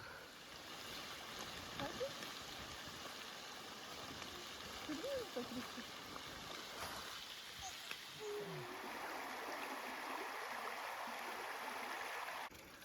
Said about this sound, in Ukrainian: Ось так попри дорогу є джерело.